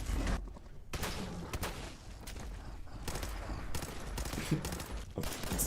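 Sustained rapid-fire bursts from a minigun in a video game, a dense roaring stream of shots with brief gaps, loud and close, with no talking over it.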